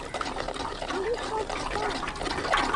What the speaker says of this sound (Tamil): மறுபடியும் கொஞ்சமாக தண்ணி ஊற்றி கரை சுத்தமாக கரைச்சி புளி வடிகட்டிக்கணும்